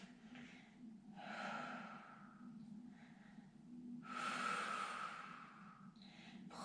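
Slow, soft breathing during a Pilates exercise: two long breathy exhalations a few seconds apart over a quiet low hum, with no talk.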